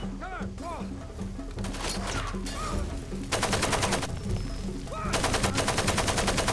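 Enemy gunfire in the Far Cry 2 video game comes in rapid automatic bursts and sharp single shots, loud and close, with someone talking between the volleys.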